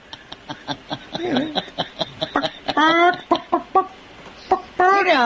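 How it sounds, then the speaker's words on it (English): Hens cluck in quick, regular bursts, broken by a few louder, drawn-out squawking calls. The birds sound close, with no talking. "That hens are attacking each other, and hens are, it's a chicken war."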